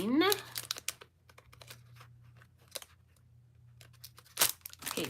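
Sheets of paper crinkle and rustle in short bursts while craft pieces are handled for a December Daily album, close and fairly quiet, with a steady low hum underneath.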